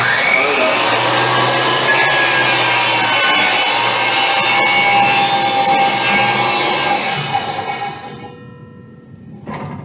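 A power saw cuts steadily through a wooden board with a continuous loud whine and rasp, then winds down and fades near the end.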